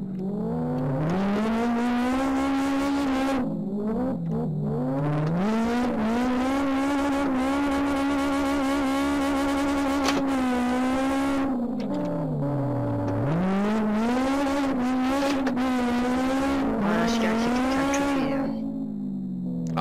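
Honda S2000 drifting in the Live for Speed racing game on an industrial-area course, a loud continuous engine drone rising and falling with revs alongside sustained tire squeal, no voices.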